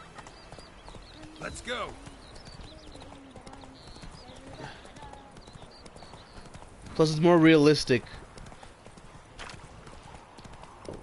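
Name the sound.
horse trotting hooves in the video game The Witcher 3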